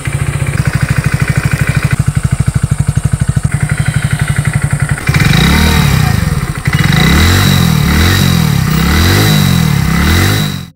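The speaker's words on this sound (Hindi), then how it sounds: "तो चलिए इस बाइक की इंजन साउंड एक बार सुनते हैं।" A Hero HF Deluxe Black Edition motorcycle with a single-barrel exhaust and black muffler cover runs close by: a steady, rapid thumping idle for about five seconds, then a series of rising and falling revs to the end.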